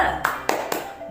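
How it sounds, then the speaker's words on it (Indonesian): Three quick hand claps in an even rhythm, close by, a teacher's 'tepuk semangat' spirit clap, with a voice faintly under them. "Kita tepuk semangat dulu ya. Tepuk semangat."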